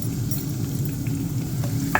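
Onions frying in oil in a pan, a brief steady crackling sizzle with faint stirring, close and alone.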